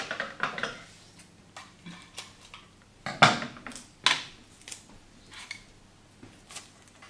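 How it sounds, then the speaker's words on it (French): Adhesive tape is pulled off a roll at a children's paper-flower craft table, giving a few short, quiet ripping and crackling bursts among light tapping and handling noises. "je prends un petit peu de scotch."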